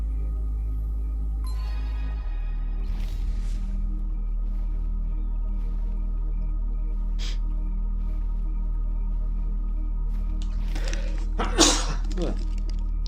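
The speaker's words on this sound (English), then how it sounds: "Big sneeze." A single loud, sharp sneeze bursts out near the end, close by, over a steady electronic hum with faint game sounds and occasional talk.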